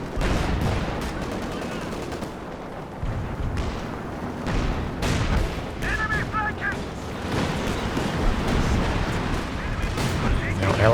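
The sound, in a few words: Katyusha rocket artillery firing in video game Company of Heroes 2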